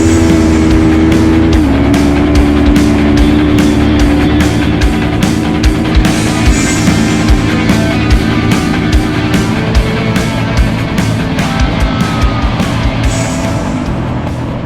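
A motorcycle with an aerodynamic fairing runs on ice in Sweden, its engine loud and close with a steady droning whine that shifts pitch as it revs, accompanied by rapid rhythmic ticking.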